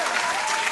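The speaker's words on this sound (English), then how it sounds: "Let's clap it up." A crowd applauds in a short, steady burst of dense clapping, loud and close, filling the whole moment without any talk over it.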